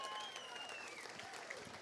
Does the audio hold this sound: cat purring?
no